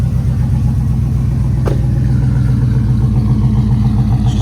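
A car engine idles steadily after an electric cooling fan install, a loud, rhythmic low rumble with even pulsing throughout and a brief click partway through.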